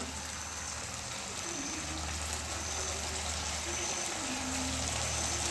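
Bowl-rinsing water poured into sautéed onion, ginger-garlic paste and spices in a pan, a steady close rushing gush with a soft sizzle underneath, lasting the whole stretch.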